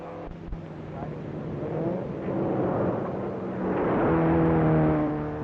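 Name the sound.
race cars roaring engines on dusty roads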